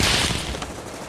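Intense gunfire aimed at a car in the war drama Generation Kill: a dense, loud, continuous rattle of shots in a brief burst, with no speech over it.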